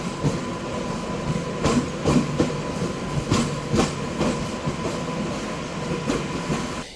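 A Kachiguda–Raichur MEMU electric multiple-unit train pulls away from Krishna Junction after a one-minute halt, heard from on board: rhythmic clickety-clack of wheels over rail joints under a steady rolling hum, moderately loud and without talk.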